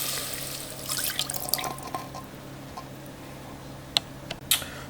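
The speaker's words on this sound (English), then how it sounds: "I'm going to pour a little more than 1/2 cup of chicken broth in there." Chicken broth poured into a 4-quart Cooks Essentials pressure cooker while making chicken lo mein: a steady close trickle of liquid running under a low hum, followed by a few sharp drips and taps near the end.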